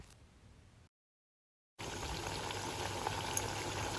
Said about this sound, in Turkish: Kabaklarımı kızgın yağın içerisine aldım ve kızarmaya bıraktım